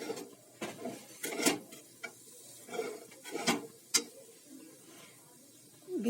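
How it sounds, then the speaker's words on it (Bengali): Dal puri filling is dry-roasted in a pan with no oil, heard as intermittent scraping and stirring strokes of a spatula against the pan with soft clinks, close and moderately loud, with gaps of quiet between strokes. "মিশিয়ে এটাকে তেল ছাড়া, কোনো রকম তেল ছাড়া ভেজে নেব।"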